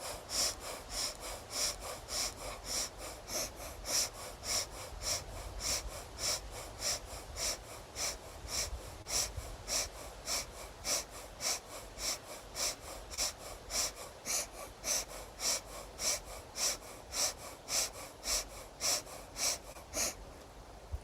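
Fast, rhythmic breathing from a kundalini yoga breath exercise, with steady sharp nasal puffs repeating evenly for about twenty seconds, close and alone.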